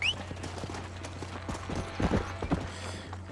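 Steady clip-clop of horse hooves trotting at a moderate distance in the video game Red Dead Redemption, irregular beats over a low constant hum.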